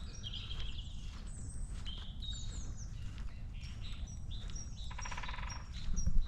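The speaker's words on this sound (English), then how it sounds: "That's a woodpecker." A woodpecker calls in quiet woodland amid chirping songbirds, its rapid repeated notes faint and somewhat distant, with a soft outdoor rustle underneath.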